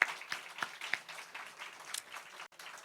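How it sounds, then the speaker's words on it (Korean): Scattered applause from a church congregation at an Easter Sunday service, faint and thin, with a few sharper individual claps standing out over a soft, irregular patter. "우리 두 분에게 정말 위로와 격려의 박수 드립시다."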